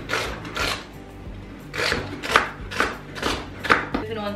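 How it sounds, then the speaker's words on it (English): A knife chops little mini celery sticks on a board, a run of sharp close thuds in an uneven rhythm, about seven or eight cuts, with faint speech in the background. "Chop them up."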